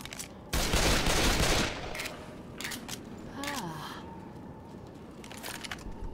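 Shotgun fire in the Left 4 Dead zombie shooter: a loud burst of blasts early on, then scattered lighter shots and game effects, with a player talking over the action.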